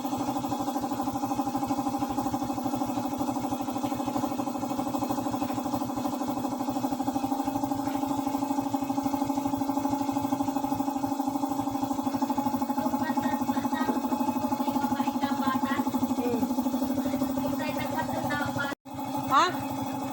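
An air compressor runs at a mechanic's shop with a steady, droning motor hum under talk, holding level the whole time before a brief cut-out and short burst near the end.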